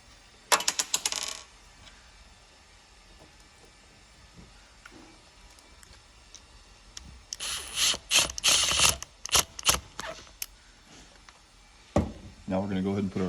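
Screws are snugged into an Aeron office chair core with a ratcheting tool, giving bursts of quick close clicking separated by quiet pauses, with a brief knock near the end.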